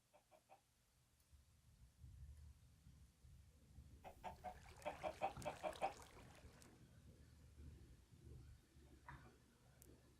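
Blocky chickens in the Minecraft modpack FTB Infinity Evolved Skyblock cluck faintly in short bursts, rising to a busier flurry of clucks midway against a quiet low hum.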